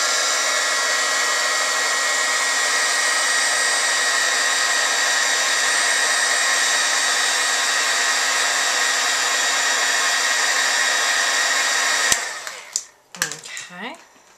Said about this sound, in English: I'll take my heat embossing gun, and we'll go ahead and get that dried up here